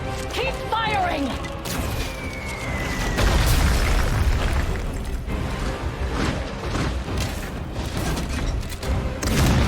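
Cannon fire and explosions in a World of Warcraft cinematic: heavy booms and crashes over a steady battle din, with a whistling projectile early on and voices mixed in.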